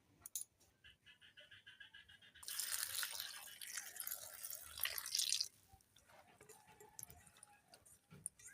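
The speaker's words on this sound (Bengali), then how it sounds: "এরকম করে 2-3 বার জল দিয়ে ঝিঙেগুলো আমি ভালো করে ধুয়ে নেব" Cut ridge gourd pieces are swished and splashed in a bowl of water, a bright sloshing burst lasting about three seconds between quiet drips and handling noises.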